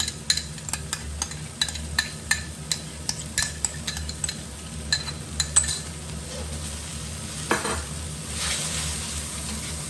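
Rice noodles and vegetables stir-frying with oyster sauce in a hot pan: a steady sizzle under repeated sharp clinks of a utensil scraping and tapping the pan in an uneven rhythm, easing into a softer hiss.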